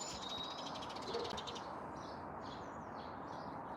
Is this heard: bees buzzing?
no